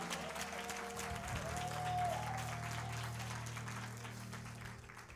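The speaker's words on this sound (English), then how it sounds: "Let's give Brother Don a hand clap." Hand-clap applause from a church congregation at a tabernacle service for Brother Don, a steady spread of clapping with a sustained organ or keyboard tone underneath and some voices mixed in.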